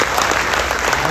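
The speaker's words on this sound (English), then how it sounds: "Yes, let's clap it up." Students clapping loudly at a high school freshman orientation, a dense burst of close applause from a large crowd filling the whole brief moment.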